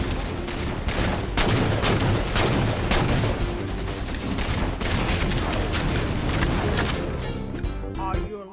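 Sustained heavy gunfire in Halo 4 multiplayer, dense overlapping bursts and explosions filling the scene, loud and continuous throughout with no pause.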